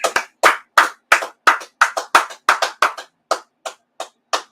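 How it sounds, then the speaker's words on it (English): A congregation at a church service claps in praise to the Lord, with about fifteen sharp, unison claps in a steady, loud rhythm separated by clean silence. "Let's clap it up for the Lord."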